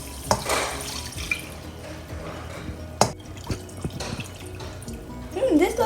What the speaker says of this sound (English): Now we're gonna pour in chicken broth.